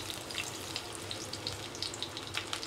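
Onions frying in mustard oil give off a soft, even crackle, with light spatters ticking through it and no voices.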